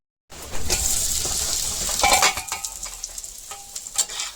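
Potatoes coated in turmeric sizzle and fry in a pan over medium heat, with steady crackling broken by scraping stir strokes and light utensil clinks against the pan, close and alone.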